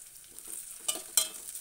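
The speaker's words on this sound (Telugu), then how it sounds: "ఇవి మంచిగా దోరగా రెడ్ కలర్ వచ్చేటట్టు కొంచెం వేయించుకోవాలండి" Onion and green chillies fry in oil for a soya-chunk masala curry, a faint steady sizzle broken by two brief stirring clinks.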